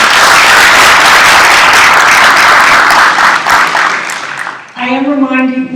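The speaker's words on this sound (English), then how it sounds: "these flowers belong to you along with this applause" Audience applause at a community conversation event at a school, loud sustained clapping from a crowd that fades after about four seconds as a voice begins talking.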